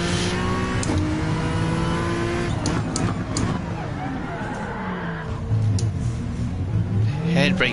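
A car in Gran Turismo 7 pulls a handbrake turn, its engine droning and revving as the tires scrub and skid, with sharp clicks and a rising rev near the end, while someone talks.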